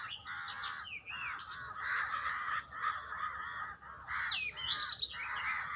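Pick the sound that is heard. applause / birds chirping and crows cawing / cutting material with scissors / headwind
birds chirping and crows cawing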